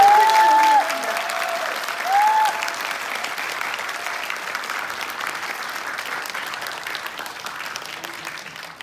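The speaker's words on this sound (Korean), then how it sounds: "큰 박수 부탁드리겠습니다." Party supporters applaud at a Gaepyeon Party political rally in Gyeonggi Province, a loud sustained crowd clapping that fades slightly and then holds steady, with a few shouted voices near the start.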